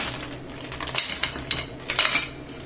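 A pot of clam, white bean and potato stew is stirred with a utensil, giving close scraping and clinking against the pot in a few uneven bursts, with no talking.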